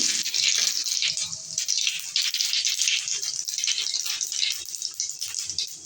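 Half a spoon of cumin seeds crackle and splutter in about three spoons of hot mustard oil, a dense, steady, close-up hiss of rapid pops lasting throughout with no talking.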